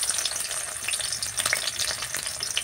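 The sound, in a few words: onion frying in white oil in a wok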